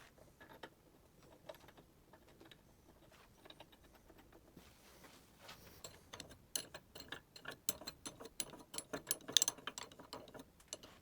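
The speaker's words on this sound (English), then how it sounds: "I had to be really careful when tightening the nuts" A ratchet clicks rapidly while tightening nuts on the jaws of a restored Parkinson's Perfect No 9 vise, starting as soft sparse ticks and building into loud, close, irregular bursts of sharp clicking.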